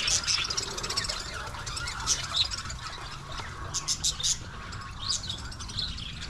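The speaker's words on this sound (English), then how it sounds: "Oh, little birds there." Small birds, little canaries, chirp and tweet in quick bright bursts on Pai walking street in Thailand, sounding fairly close over a low street hum.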